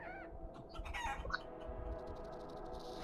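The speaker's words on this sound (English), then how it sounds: "Look at that chicken jump." Chicken clucking in the video game Guacamelee, a few quick clucks and squawks over game music and effects, moderately faint.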